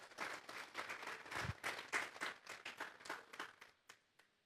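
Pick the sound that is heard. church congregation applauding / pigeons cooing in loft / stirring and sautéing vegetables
church congregation applauding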